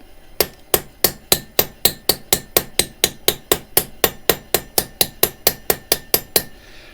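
An improvised tool strikes a seal being seated into a Subaru EJ25 cylinder head, giving about two dozen sharp, evenly spaced metallic taps in a quick steady rhythm, close and loud with no talking.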